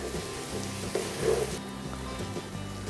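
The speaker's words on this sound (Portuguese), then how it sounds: "Eu só vou fritar rapidamente esse alho." Chopped garlic sizzles steadily as it fries in a pan, a dense continuous crackle with faint scraping of a stirring utensil, heard close and alone without any talk.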